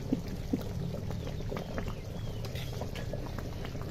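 A roast curry with yogurt, green chillies and water simmers in a pot, a steady low bubbling and popping, close and quiet, with no talking.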